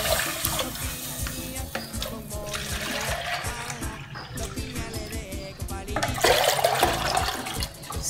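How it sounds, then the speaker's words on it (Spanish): Two liters of water pour steadily into a cooking pot, a continuous splashing gush that grows louder near the end as the pot fills, close up with no talking. "En esta olla vamos a mezclar 2 litros de agua."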